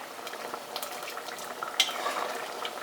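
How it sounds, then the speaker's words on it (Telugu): Young bottle gourd and tomato curry simmers and bubbles in a pan, a soft, steady bubbling hiss with faint utensil taps, close and fairly quiet, with no talking. "ఇది కొంచెం దగ్గర పడే వరకు ఎగరబెట్టుకుని ఆపేసుకుంటే చాలు."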